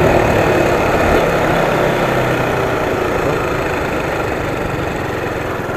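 A Honda GTR 150 motorcycle engine idles close by, a continuous low rumble that holds level without revving.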